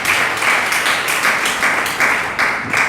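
Applause from an audience during a Hindi sermon, a dense steady patter of claps with bursts of stronger clapping every few tenths of a second, loud and close throughout.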